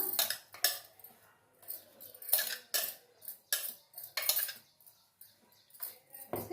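Ground paste and chopped onions are worked together in a bowl, giving a rhythmic series of scraping, clinking strokes of a utensil against the bowl, close and steady, with no talking.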